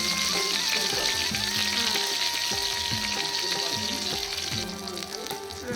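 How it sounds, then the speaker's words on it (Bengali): Dry red chillies and chopped garlic frying in hot oil as a tempering for mutton kasha, giving a loud, steady close sizzle with bubbling spatter throughout, no voices. "এখানে দু একটা শুকনো লঙ্কা ছেড়ে দিলাম ফোড়ন আর এখানে একটু রসুন কুচি আছে"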